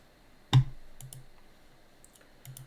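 A single sharp computer mouse click, close and distinct, followed by a few faint lighter clicks in a quiet room.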